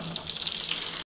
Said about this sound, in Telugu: ముందుగా కట్ చేసి పెట్టుకున్న బెండకాయ ముక్కల్ని నూనెలో వేసుకుందాం